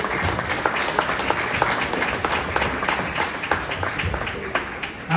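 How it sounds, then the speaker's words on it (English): An audience at an awards event applauds the awardees with steady, moderately loud clapping, individual hand claps audible within the even wash of applause. "You all deserve a heartfelt round of applause."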